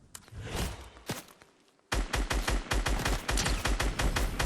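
Rapid M4 rifle gunfire from the video game Fortnite Mobile: a few scattered shots, a short pause, then a fast, loud burst of automatic fire.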